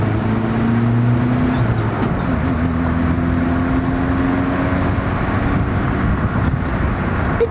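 An old pickup truck bought cheap, with an exhaust in need of patching, drives down a country road. Its engine drones loud and close, the pitch holding, shifting once early on and then continuing steadily.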